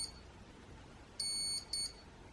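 ESC initializing after a 2S battery is plugged in, giving one longer high electronic beep followed by a shorter one, clear above a faint background hiss with no talk.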